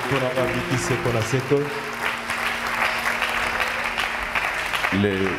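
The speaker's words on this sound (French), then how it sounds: "Nous acclamons très fort pour celui qui vient d'arriver." A church congregation claps and cheers loudly in a sustained wash of applause, with a singing or chanting voice carrying over it at the start and again near the end.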